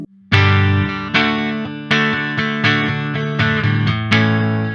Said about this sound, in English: That's the neck pickup. That sounds pretty nice.